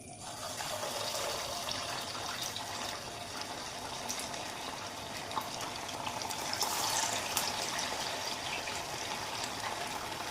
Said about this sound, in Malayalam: ഓയിൽ ചൂടായിട്ടുണ്ട്. വട ഓരോന്നും ഇട്ട് കൊടുക്കും.